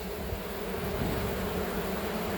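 Honey bees agitated around an opened hive during honey pulling, giving a steady, dense, close buzzing drone that fills the whole stretch without pause.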